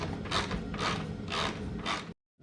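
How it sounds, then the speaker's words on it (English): A hand ratchet with a T25 Torx socket clicks in four quick bursts while loosening a bolt in the engine bay of a 2009 Mini Cooper, close and loud, then stops abruptly. "grab a T25 socket or attachment with a ratchet, and you're going to go ahead and take the bolt off right here"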